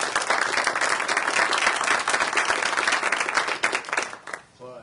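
An audience breaks into sustained applause at an evening event honoring a chaplain, Father Coughlin; dense, steady clapping fills the room for several seconds, then thins and fades at the end.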